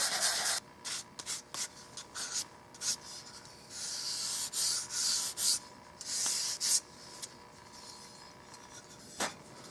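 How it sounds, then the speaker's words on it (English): Abrasive rubbing and grinding on a wooden 12-gauge side-by-side shotgun stock being reshaped, coming in close repeated strokes of varying length with brief pauses between them, no talk. "That's why I'm grinding this down."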